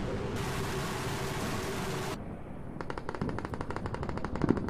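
Rapid machine gun fire used as a sound effect, a dense continuous burst followed by distinct repeated shots that grow louder toward the end.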